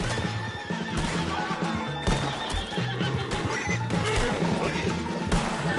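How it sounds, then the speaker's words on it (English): A horse whinnies loudly amid clattering hooves and crashing commotion in a PS4 video game, a dense, busy action scene with no clear talk. "Put Strauss on the back of John's horse"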